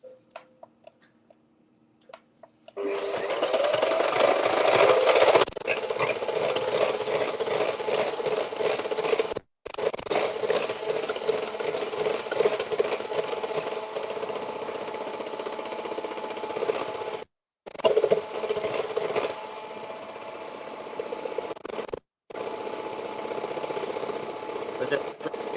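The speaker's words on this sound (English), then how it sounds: "And you're gonna beat it again, and you want to beat it until you lift the beaters up" Electric hand mixer beaters whipping cream for tiramisu, a loud steady motor whir with rattling beaters that runs continuously, broken by a few brief pauses, while a person talks over it.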